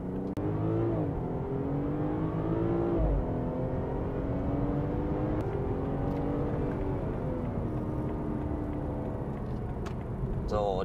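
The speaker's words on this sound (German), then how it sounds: "Man hört den Motor, man hört den geilen BMW 6-Zylinder-Sound" A BMW 540i six-cylinder engine in sport mode accelerates hard while overtaking, heard from inside the car as a loud, steady rising engine note with gear-shift dips, continuous throughout.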